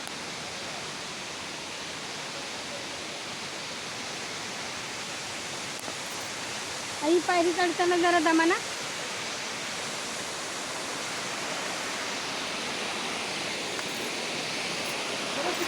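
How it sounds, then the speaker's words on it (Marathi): Waterfall at Marleshwar pouring steadily, a broad continuous rush of water that fills the whole clip at a constant level, with a brief spoken phrase from someone climbing steps partway through. "तर पाण्याचा खूप छान असा धबधबा आहे चाललेला आहे"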